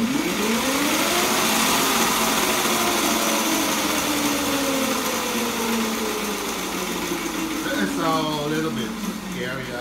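An 8 kW electric motor on a DIY electric go-kart spins up on a test bench with a steady, loud whine whose pitch rises and falls as it revs, continuous throughout.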